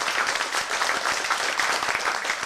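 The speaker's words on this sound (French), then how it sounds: "Nos applaudissements pour cette fête qui nous ont permis de conclure." Crowd at a rural agricultural fair applauds, a brief, dense, even burst of clapping with no pauses.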